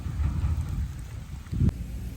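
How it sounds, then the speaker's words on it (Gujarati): Steady rain with a low rumble of thunder swelling near the end, no voices. "આ વરસાદની જમાવટ છેલ્લે છેલ્લે થઈ છે"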